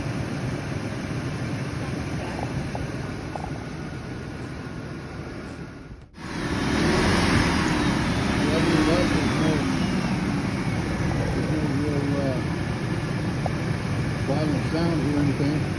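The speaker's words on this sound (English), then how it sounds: "It's running, sounds pretty good. Again, it's running on 7 cylinders. The idle's pretty good." A car engine idles while running on seven cylinders, giving a continuous rumbling hum with a brief cut partway through before the steady drone resumes.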